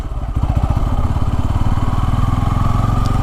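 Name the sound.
Bajaj Pulsar N250 motorcycle engine protesting at low speed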